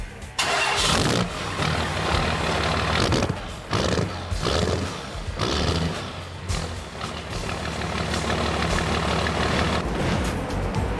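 A custom car engine cranks briefly then fires and roars to life, loud and close, settling into a rumbling idle with a couple of throttle surges.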